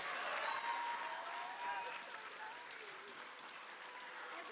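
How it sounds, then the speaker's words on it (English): An audience applauds authors at a book festival event, a sustained wash of clapping from a crowd that stays fairly even and slowly tapers a little toward the end. "Let's give our middle grade Renegade authors a round of applause."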